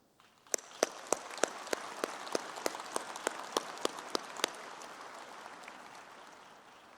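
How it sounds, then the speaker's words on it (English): A graduation-ceremony audience applauds its graduates: a dense, wash-like roar of many clapping hands in a large hall, with a few sharp close claps standing out early, slowly fading toward the end. "May we give a round of applause again in congratulations for our graduates."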